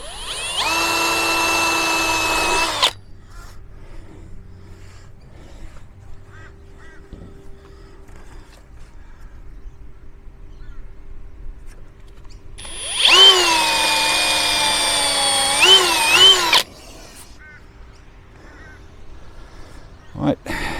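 Power drill boring through masking tape into a metal roll-out awning bar, two loud whining bursts with pitch shifts under load, separated by a quiet stretch with faint handling noise.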